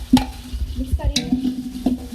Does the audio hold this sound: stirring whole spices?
yes